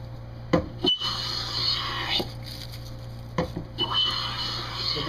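A hand plane shapes a hexagonal wooden table leg, with a few separate rasping shaving strokes and soft knocks against a steady low hum.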